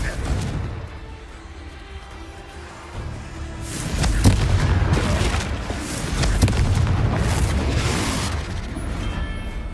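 Confringo spell blasts in Hogwarts Legacy erupt as repeated loud booms, with sharp cracking hits around the middle over a steady rumbling battle backdrop, swelling and lingering with mixed game noise.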